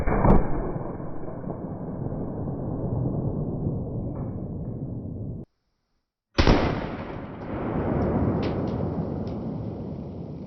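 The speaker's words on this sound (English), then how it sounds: "But yep, that's a 12 gauge." A 12 gauge shotgun fires a dragon's breath shell outdoors: a sharp blast gives way to a loud, sustained roaring rush. It cuts to brief silence, then another loud burst of roaring noise that slowly tapers.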